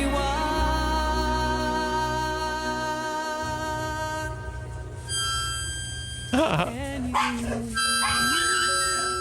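Dogs whimper, yelp and whine in long, high, wavering tones, with sharper yips later, fairly close and continuous without talk.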